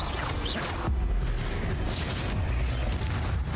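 Confringo spell blast in the video game Hogwarts Legacy, a loud fiery boom with crackling, rumbling mechanical noise filling the whole stretch at steady intensity.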